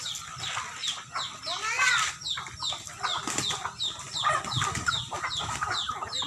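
Two large roosters fighting in a backyard, with sharp clucks, squawks and bursts of wing flapping in close, agitated succession, alongside other farm bird noises.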